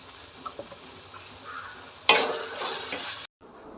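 Sprouts masala with Kashmiri chilli powder, coriander powder and garam masala stirred in a pan, giving soft scrapes and a low sizzle that swells briefly into a louder frying hiss before cutting off.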